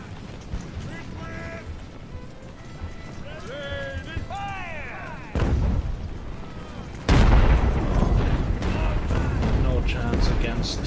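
Artillery in Ultimate Admiral: Age of Sail fires a barrage of deep booms and rumbling blasts that swell louder toward the end, mixed with battle noise and game music, while someone talks over it.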